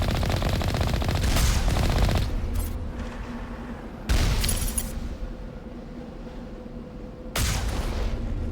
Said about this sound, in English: you're shooting through the mountain